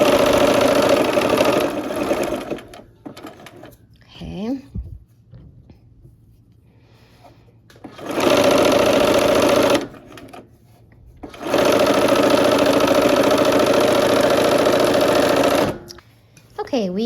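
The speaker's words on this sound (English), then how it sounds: "We're gonna sew this. I think this is maybe one of the longest seams in the block." An electric sewing machine stitches a long seam across a Christmas quilt block, running in three loud, steady whirring bursts separated by quieter pauses.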